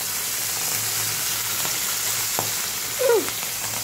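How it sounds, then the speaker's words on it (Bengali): Fish frying in hot oil for a Bengali fish curry, a loud continuous sizzle with sharp spatters and pops, a brief squeaky tone near the end, no talking. "মাছগুলো ভীষণ তেল ছিটাচ্ছে আজকে"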